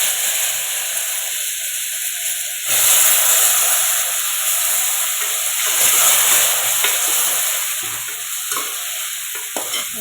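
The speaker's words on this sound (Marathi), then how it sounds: "ह्याच्यामध्येच मी आता चिरलेली वांगे टाकणार आहे" Chopped brinjal sizzles steadily in a pan of masala, with a gas flame turned low, while a spoon stirs and scrapes through it in repeated bursts; close, continuous frying hiss with no talking.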